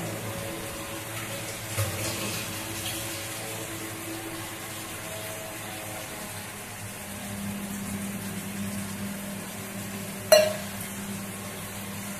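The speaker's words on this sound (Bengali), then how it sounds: "এর মধ্যে আমি 1 কাপ উষ্ণ জল দেব, গরম জল 1 কাপ মতন দেবো।" A cup of hot water goes into a simmering gravy for stuffed pointed gourd dorma, a soft continuous watery rush under low kitchen hum, ending with one sharp clink near the close.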